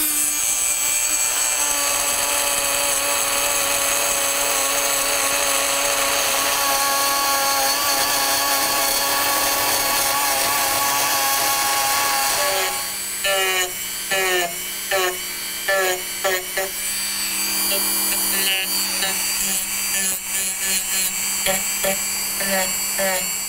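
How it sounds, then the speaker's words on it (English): Dremel rotary tool carving a wooden branch into flower petals: a high, continuous whine grinding into the wood for a long stretch, then turning into short on-off bursts of cutting close by. "I've got my Dremel here, and I'm just gonna take away some wood."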